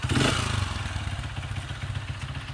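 A worn connecting rod knocks inside a running motorcycle engine with a rapid metallic clatter over a mid-pitched idle, loud and close throughout the short stretch.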